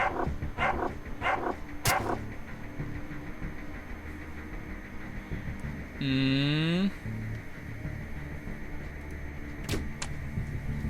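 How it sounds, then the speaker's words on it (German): Dog barks in the video game Underrail: a few quick sharp barks near the start, then mechanical whirring and clunks from the game over a steady low background, with no talking. "Und jetzt haben wir hier noch diesen dämlichen Köter."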